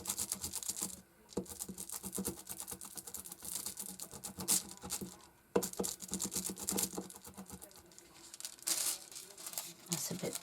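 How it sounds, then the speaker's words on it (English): Scissors rubbed firmly over a glued leather money wallet, giving dense scratchy, crinkling strokes in bursts with brief pauses, close and moderately loud, no talking. "Let's burnish it with a pair of scissors."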